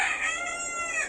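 A Fayoumi hen gives a short, close, high-pitched call lasting about a second, clear and alone with no talk.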